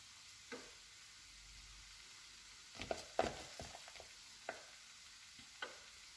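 Minced meat in hot oil in a frying pan, a soft low sizzle with scattered scraping and stirring knocks clustered in the middle, fairly quiet and close, with no voices.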